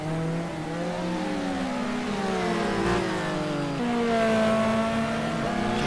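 Race cars in Gran Turismo 2 at Interlagos, two engines droning close together at high revs, with pitch climbing and falling through gear changes, loud and steady with no talk.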